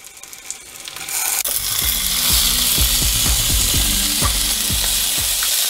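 Chopped tomatoes hit a hot pan and burst into loud, steady sizzling, with a utensil clacking and scraping the pan repeatedly as they are stirred, up close.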